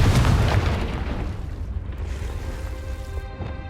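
A Confringo fire spell explodes in Hogwarts Legacy, a loud booming blast at the very start that rolls off into a fading rumble over a few seconds.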